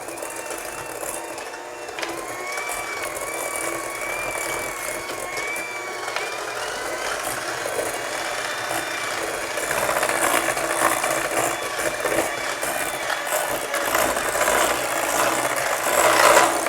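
Electric mixer beating peanut butter cookie dough in a bowl, a steady whirring motor whine with mechanical rattling, continuous and close, growing slightly louder toward the end.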